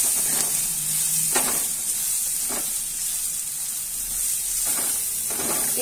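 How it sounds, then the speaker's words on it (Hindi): Paneer bhurji with salt is stirred in a hot pan, a steady sizzle running under several spaced spoon scrapes across the pan, fairly close and with no talking. "और अब आप इसे हिला देंगे अच्छे से"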